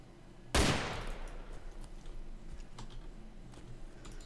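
A single sharp gunshot cracks out in the video game Arma 2 DayZ, then trails off into a decaying echo against quiet background game ambience.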